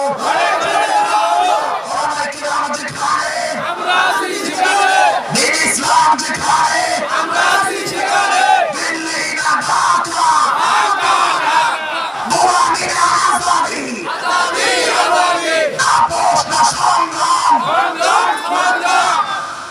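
A large crowd answering a takbir call at a Bengali Islamic gathering, with loud, sustained massed chanting and yelling that keeps going in waves, close and energetic throughout.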